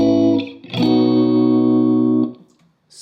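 An electric guitar played through a reverb pedal on its room setting rings out with a sustained strummed chord, loud and close, a short earlier chord fading before it and a soft wash of reverb trailing off at the end.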